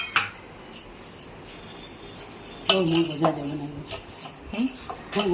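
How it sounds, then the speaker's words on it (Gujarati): A spoon scrapes and clinks against a pot as sugar is stirred into raw mango for murabba, with irregular metallic scrapes and knocks that grow louder partway through; no one talks. "હલાવીને મિક્સ કરી દેવાનું"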